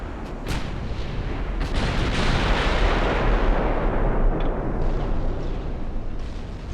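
Naval artillery fires in the warship game Ultimate Admiral Dreadnoughts, a few sharp gun reports at the start followed by a loud, rolling boom that rumbles and slowly fades.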